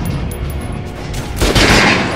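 Gunfire sounds at a shooting range in the Metro Last Light Redux video game, a dense loud burst of rapid shots that swells toward the end.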